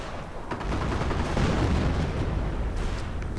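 Artillery and gunfire in a World War II real-time strategy game, a dense, continuous roar of booming shots and rumbling blasts that stays loud and sustained throughout, with no talk over it.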